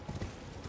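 Horse hooves clip-clopping in the video game Elden Ring, a quick run of faint, muffled hoof beats lasting under a second.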